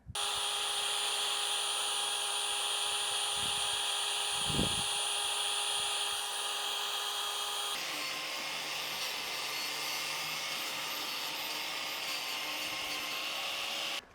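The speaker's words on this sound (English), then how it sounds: "We got the wire brush on the drill." A wire brush spinning on a drill scours the rivets and bolts of a dump truck frame, a steady, loud, continuous whir and scratch throughout with a brief knock partway through.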